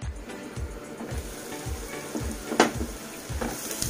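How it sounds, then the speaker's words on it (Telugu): Onions frying in a pan are stirred with a soft, regular scraping rhythm, about two strokes a second, over a continuous low sizzle, close and fairly quiet with no voices. "ఇలా మధ్య మధ్యలో కలుపుకుంటూ ఉండాలి ఫ్రెండ్స్, ఎందుకంటే ఉల్లిపాయలు అనేవి మాడకుండా ఉండాలి।"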